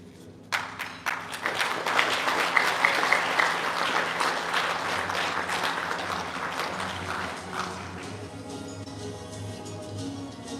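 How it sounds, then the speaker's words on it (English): Crowd applause at a police department promotion ceremony on Guam, starting abruptly and sustained as dense clapping for several seconds before thinning and tapering off near the end. "let's give another round of applause to Sergeant Jeremiah J. Cruz."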